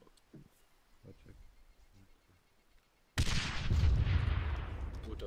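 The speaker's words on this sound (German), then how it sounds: "da ist eine Granate eingeschlagen." A grenade hits and explodes in a military video game: quiet, scattered background sounds, then a sudden loud, booming blast that rumbles on and fades slowly.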